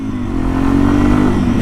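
A 2021 Yamaha TW200 five-speed motorcycle at highway speed on Interstate 95, its single engine holding a loud, steady buzzing drone that climbs gently in pitch as it revs up.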